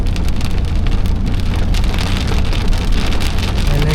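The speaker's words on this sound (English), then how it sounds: "Rain is getting harder." Heavy rain pounds down during a tornado storm in Texas, a loud, dense, constant downpour drumming on surfaces with no pauses or voices.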